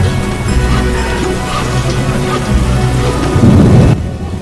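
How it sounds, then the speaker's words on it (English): Rain and a thunderstorm in The Witcher video game: steady loud rainfall with deep rolling thunder swelling near the end before the sound cuts off abruptly. "We're in for a deluge."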